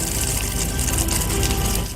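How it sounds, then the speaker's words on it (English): Hot water gushes steadily from a faucet in an RV, a close, continuous splashing rush with no voices over it. "I'm going to turn on the hot water faucet for it right now, and I'm just going to let it run until it gets hot."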